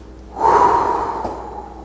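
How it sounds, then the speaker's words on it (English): During a guided breathing exercise a person breathes out in one long, close exhale, a soft breathy rush that rises quickly and trails off gradually, with nobody speaking. "Let's breathe out."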